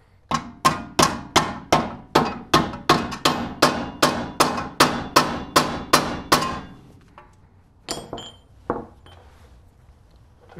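A hammer strikes a big flathead screwdriver that is being driven near a ball joint while removing the rear wheel bearing on an '05 Aviator, Explorer or Mountaineer. About fifteen steady, ringing metallic blows come in even rhythm, then a few scattered knocks.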